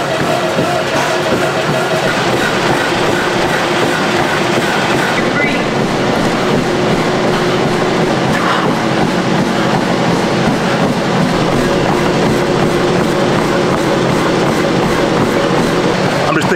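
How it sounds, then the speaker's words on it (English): A train rumbles past steadily for the whole stretch, a dense continuous roar with rattling wheel noise and faint voices underneath. "Train!"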